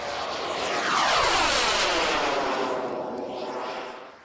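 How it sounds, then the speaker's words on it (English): MiG-21 jet fighter passing at an air display at Woodvale, a loud roaring jet engine that swells as it approaches, peaks, then fades with a sweeping pitch shift, alone with no talk. "The MiG-21, codenamed Fishnet by NATO, is the world's most produced jet fighter."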